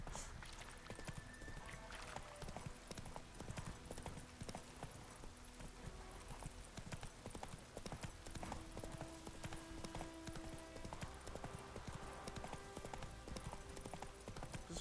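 Horse hooves clip-clop steadily in the Witcher 3 video game, a continuous rhythmic trotting set against a busy layer of game music and ambience, with no talking over it.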